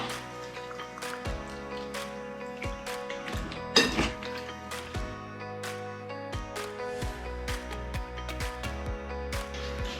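Meat being stirred in a bowl with a marinade thickened with double-concentrated tomato paste for Portuguese bifanas, producing steady close wet squishing and clinking against the bowl, with one sharper knock partway through.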